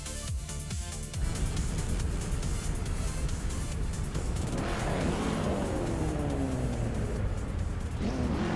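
Race cars speeding around the Lausitzer DTM circuit in a racing video game, 1970s slow car class, a steady loud engine roar with rising and falling revs as cars pass, no talking.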